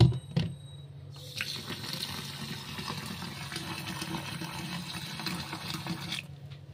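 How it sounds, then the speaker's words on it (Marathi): Fresh water pours steadily into a container of soaking semolina for making kurdai, a continuous splashing rush lasting about five seconds after a brief knock, then stopping abruptly. "पाणी भरून घेऊया आपण।"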